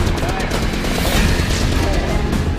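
Heavy, continuous gunfire from panicked Afghan allied troops, a loud unbroken roar of rapid shots and crashes close by, with voices buried in the din.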